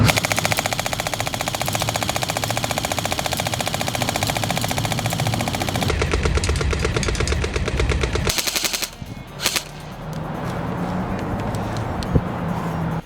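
A Magpul PTS RM4 Scout electric recoil airsoft gun by KWA fires in long, rapid automatic bursts, a dense mechanical rattle loud and close for about nine seconds, then a couple of short bursts before quieter handling noise.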